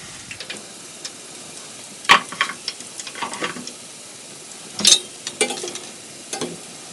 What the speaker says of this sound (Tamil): அந்த சலசலப்பு அந்த ஓசையெல்லாம் நல்லா அடங்கினதுக்கப்புறமா தான் நமக்கு இருக்கும்